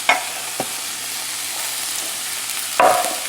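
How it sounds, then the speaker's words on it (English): Onions and celery sweat in a pan over a moderate flame, a soft steady sizzle broken by a few clinks of a utensil stirring, the loudest near the end. "We're going to sweat up the vegetables."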